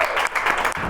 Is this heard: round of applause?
yes